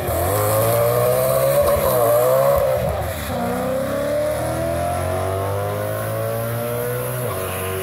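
A BMW E46 race car launches at Orlando Speed World with wheel spin, its engine revving hard and rising in pitch, loud and nearby, with tire noise as it accelerates away.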